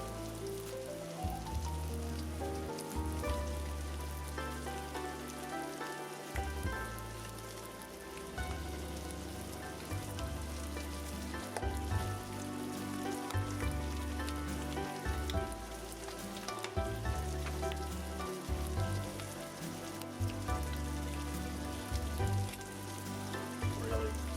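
Bacon sizzles and simmers steadily in a pan for a pasta sauce, a dense continuous crackle like light rain, close and even throughout, with a low background hum and no voices.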